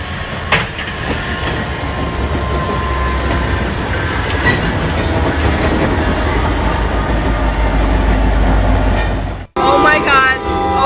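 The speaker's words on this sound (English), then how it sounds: "Train hits Chick Gatewood beverage truck in Tifton" Train striking a Chick Gatewood beverage truck in Tifton, Georgia: a loud, continuous rumble of rolling rail cars with clattering wheels, then an abrupt cut and a short burst of high squealing and clanking.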